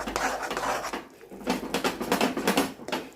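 Ripe mango halwa is stirred in a pan with a steady series of soft, thick scraping strokes and light pats, quiet and close, with a short pause partway through.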